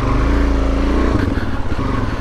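Suzuki DRZ400S dual sport motorcycle engine idling loud and close at an off-highway vehicle area, a steady throbbing rumble with one brief blip of throttle partway through.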